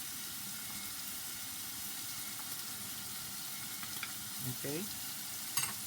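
Seasoned chili meat with garlic and onion powder sizzles steadily in a pan, with a few stirring scrapes and clinks near the end; a voice speaks briefly.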